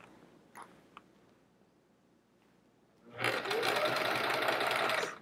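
A sewing machine stitches rows of a chevron quilt, starting after a stretch of quiet with faint handling clicks and running steadily and fairly loud for about two seconds.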